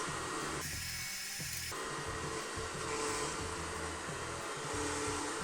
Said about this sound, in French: il y a une espèce de vibration permanente qui est assez pénible et qui en tant que telle va au-delà du bruit de l'aspirateur